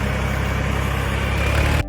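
Steady, close tractor engine drone from a village ride in Punjab, holding a low even rumble before cutting off abruptly near the end.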